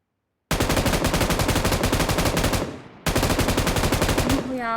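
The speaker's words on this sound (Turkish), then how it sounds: "İyi vurdum aslında M2 ile ama düşmedi adam." Rapid M2 machine-gun fire in PUBG Mobile, two long sustained bursts of loud, evenly spaced shots separated by a brief gap, close and dominant.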